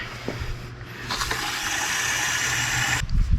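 Water splashes and gushes steadily into a lawn sprayer tank for about two seconds, with a mechanical hum underneath and a brief clunk near the end.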